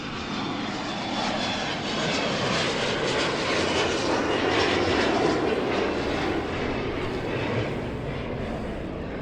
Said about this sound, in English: Those airplanes are so loud going overhead.